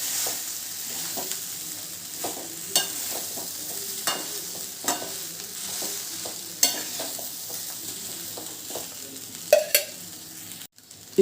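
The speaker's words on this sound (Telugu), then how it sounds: "ఇప్పుడు రైస్ వేసేస్తాను ఇక్కడ. కలుపుకుందాం ఇది." Rice is stirred in a hot pan over a soft, steady sizzle. A spoon scrapes and taps against the pan in irregular clicks close by, and no one speaks.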